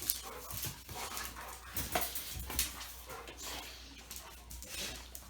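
Dogo Argentino dogs play indoors, giving soft whimpers, short yips and panting amid scuffling, fairly close but quiet.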